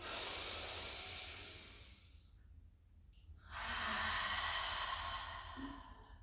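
Deep breathing during a Pilates exercise: a long, close, hissing exhale, a brief quiet pause, then another drawn-out airy breath, with no talking.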